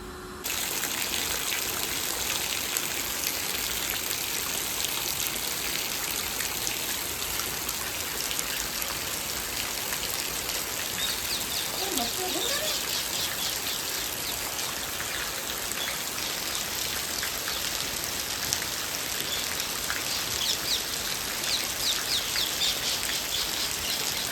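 Steady light drizzle falling in a rural Gujarati village near Botad, a continuous soft hiss of rain with no voices, even and unbroken throughout.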